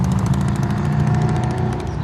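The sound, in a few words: motorcycle passing by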